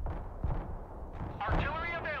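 Paladin self-propelled artillery firing in the game Broken Arrow: a couple of deep booming shots with rumbling tails, the last followed by a rising whistling rush, all under a voice talking.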